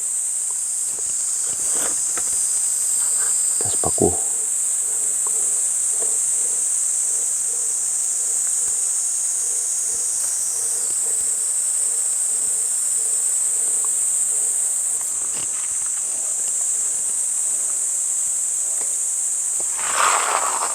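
Insects droning at a backpacking campsite in the wild, a constant high shrill buzz like cicadas or crickets filling the whole stretch, with occasional nearby rustling and footsteps underneath.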